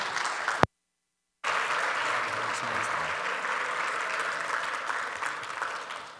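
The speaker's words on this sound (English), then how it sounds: "let's stand to our feet, give a round of applause to Pastor Jon Groves" A church congregation applauds for a pastor with a broad, steady wash of clapping filling the room after a brief cut to silence, holding even and fairly distant with faint voices underneath.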